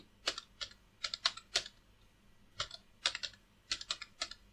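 Quick bursts of typing on a computer keyboard, clustered key clicks in short runs separated by brief pauses, close and fairly quiet with no talking.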